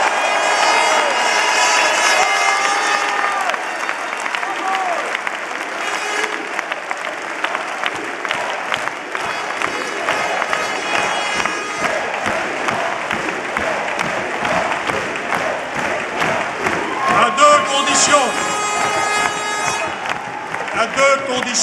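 A large crowd in a packed Paris arena for an Alain Juppé political rally applauds and cheers continuously, loud and dense, with horns tooting and scattered shouts mixed through the sustained ovation.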